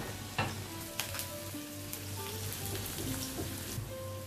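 Sliced onions sizzle in hot coconut oil for a beef ularthiyathu, a close, soft crackling fry with occasional spoon taps and scrapes, and a faint hum running underneath.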